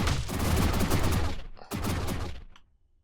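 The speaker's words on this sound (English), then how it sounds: "just mass shotguns feels pretty efficient" Massed shotgun turrets firing in the factory tower-defense game Vectorio: a dense, loud, rapid stream of overlapping blasts, a brief break, another sustained burst, then fading to silence.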